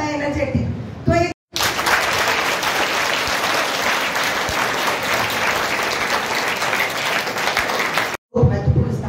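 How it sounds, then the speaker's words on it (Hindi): Audience clapping at a school award ceremony honoring tenth-grade board exam toppers at Bal Bharti school in Sujangarh: a long burst of loud, steady applause from a crowd, with brief talking just before and after. "आपके भाई बहन यहाँ सम्मानित हो रहे हैं तो आप ताली बजाइए"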